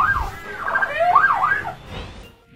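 A magpie mimics an emergency siren, its warbling, sweeping whistle rising and falling in repeated loops for a couple of seconds, loud and close with no talk.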